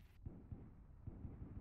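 Gunfire in the battle royale video game H1Z1: King of the Kill, several low dull booming shots spaced irregularly over a steady rumbling background, moderately loud with no talking.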